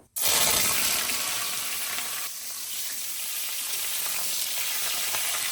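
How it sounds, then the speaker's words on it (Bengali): Cauliflower pieces hit hot ghee and white oil in a wok with a sudden loud sizzle that settles into a steady crackling fry, close by and without talk. "ফুলকপিগুলো এবার ঘি আর সাদা তেলের মধ্যে দিয়ে একটু ভেজে নেব।"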